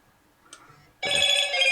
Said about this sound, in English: keep forgetting to switch my phone off for these things